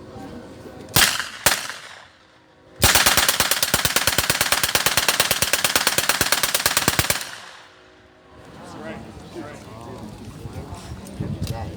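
A Thompson submachine gun at a World War II reenactment weapons demonstration fires two single shots, then a long fully automatic burst of rapid, loud, closely spaced reports lasting several seconds, followed by quieter outdoor background with faint voices.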